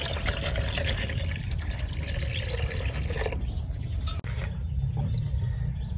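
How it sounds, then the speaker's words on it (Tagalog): Water poured into a cooking pot of beef pares broth, a steady close splashing pour that runs for several seconds and then fades. "Lagyan pa natin ng tubig."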